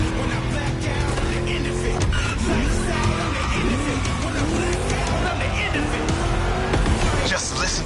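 A V8 engine in The Crew Motorfest racing game roars and revs continuously near the listener, its pitch rising and falling through gear changes, with tire squeal in places and a voice talking over it.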